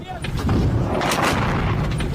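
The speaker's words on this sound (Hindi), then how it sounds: "विस्फोट की वजह से शिप के परखच्चे उड़ जाते हैं।" A ship blows apart in an explosion at sea, a loud, sustained rumbling boom with roaring, crackling noise, while voices shout under it.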